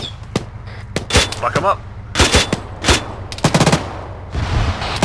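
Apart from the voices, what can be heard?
gunfire from the video game ArmA 3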